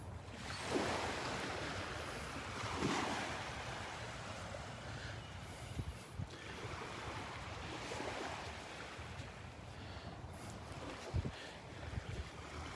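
Surf at Delnor-Wiggins beach rolls in as a broad, steady wash with periodic swells, mixed with wind rumble against the microphone and no talk.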